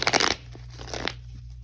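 Tarot cards being shuffled, a short burst of papery riffling at the start, then a few faint soft card taps in a quiet room.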